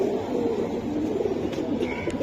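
Giribaj pigeons give a steady stream of low, throaty coos close by, overlapping without pause.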